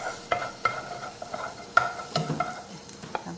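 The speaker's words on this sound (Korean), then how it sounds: "양파를 갈색이 나도록 양파를 볶아주겠습니다." Onions sauté in melted butter in a pot, a soft continuous sizzle broken by repeated clicks and scrapes of a stirring utensil, with no talk.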